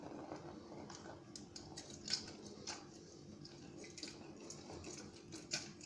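A few lemons squeezed by hand for a cinnamon-lemon drink give soft, faint wet squishes and juice dripping and splashing into a bowl, with irregular small splats over a quiet background.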